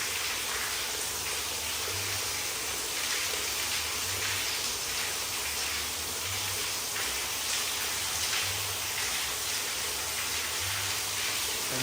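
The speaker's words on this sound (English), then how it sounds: "And then you finish off with a nice light rain." A cruise ship shower on the MSC Seashore set to simulate light rain, giving a steady, dense hiss of falling water with no pauses and no voices, close and even throughout.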